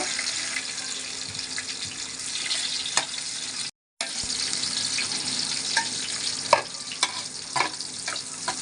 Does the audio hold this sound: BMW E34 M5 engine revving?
no